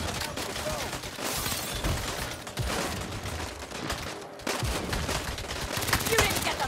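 Gunfire in the Saints Row video game, with rapid bursts of automatic weapon shots and scattered single cracks, loud and dense, mixed with mechanical clatter and occasional shouting voices.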